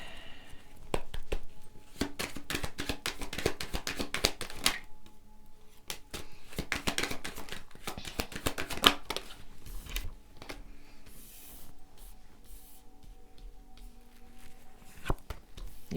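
Tarot cards are shuffled by hand, giving rapid papery riffles and soft flicking taps in uneven bursts, quiet and close, with brief pauses between shuffles.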